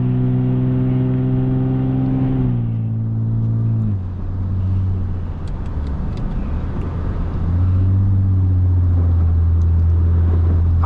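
A Lexus IS250 with a P0420 fault code revs hard while its wheels spin in snow during a snowstorm, the engine droning loud and close, pitch dropping and surging again in long sustained swells.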